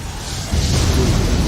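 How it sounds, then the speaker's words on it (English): An ion cannon strike lands on a base in the Command and Conquer video game, a loud sustained explosive rumble that swells about a third of the way in and holds dense low-end roar to the end. "So he fires the ion cannon at them."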